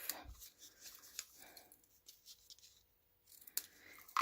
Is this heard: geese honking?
no